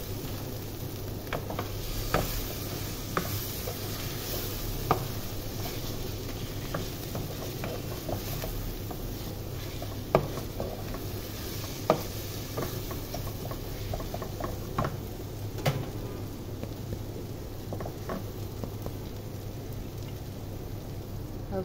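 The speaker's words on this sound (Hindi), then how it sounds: "ग्वार को हम और थोड़ा मिक्स करेंगे।" Fish and cluster bean curry being stirred in a pan: a soft, steady simmering sizzle with scattered light taps and scrapes of the spoon, quiet and unhurried.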